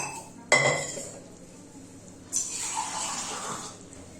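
A sharp metal clank of a pressure cooker, then water gushing and splashing into it for a couple of seconds.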